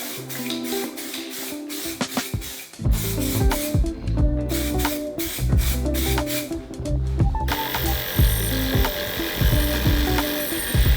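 Spray painting Honda CB250 motorcycle parts, a hissing spray in bursts broken by sharp rhythmic knocks and clattering handling sounds, close and fairly loud, ending in a longer steady hiss.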